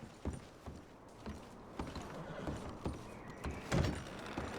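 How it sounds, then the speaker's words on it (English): Horses being packed for a ride in the video game Red Dead Redemption 2: repeated hoof clops and soft thumps of gear at a steady, uneven rhythm, mid-distance, with a faint rattle and no talk. "I'm going to start packing the horses."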